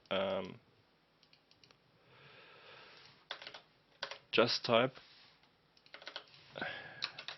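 Computer keyboard being typed on to enter a command in Houdini, close clicky keystrokes in quick bursts separated by pauses, with someone speaking intermittently over parts of it.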